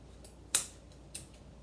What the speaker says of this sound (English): And then I'm going to cut this off.